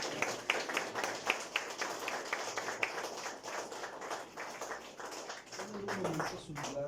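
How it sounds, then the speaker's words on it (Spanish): Church congregation at a Sunday service clapping for the Lord: fast, rhythmic group applause at moderate distance, steady through the clip and trailing off near the end as a voice begins to speak. "Dale un fuerte aplauso al Señor"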